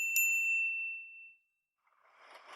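A single bright bicycle bell ding rings out close and clear, its metallic tone ringing then fading over about a second, followed by a short silence and faint background hiss.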